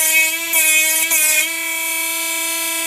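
A cheap Chinese mini grinder-engraver whines at a high, steady pitch while deburring, its tone briefly rising and roughening as it bites the work, then settling back to a constant buzzing drone.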